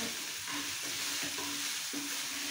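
Sabudana khichdi stirred in a pan, a soft continuous sizzle with several scraping strokes of the spoon at an even pace, close by and alone without talk.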